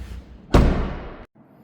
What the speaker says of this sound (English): let's shut this door and we'll go to the driver's side next.